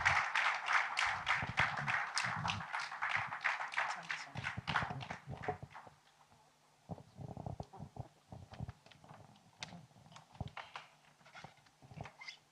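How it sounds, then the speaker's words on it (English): An event audience claps in a dense burst of applause for several seconds, which then thins to scattered, sparse claps, with a faint voice underneath. "Please clap for them."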